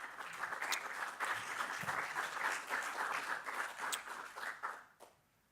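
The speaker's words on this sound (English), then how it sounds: "Applause." Sustained audience applause after a conference talk, steady dense clapping that fades out near the end.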